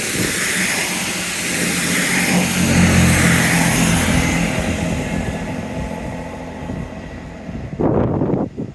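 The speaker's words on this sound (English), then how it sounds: "I can hear a train to celebrate." A train passes near a seawall, a broad rumbling roar that swells and then fades over several seconds, heard outdoors under wind, with a short burst of noise close by at the end.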